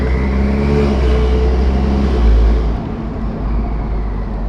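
An upgraded turbocharged Toyota Supra idles low near 1500 RPM with a deep, loud rumble and a faint whistling turbo spool. The engine swells briefly and then settles back, heard close and with no voices.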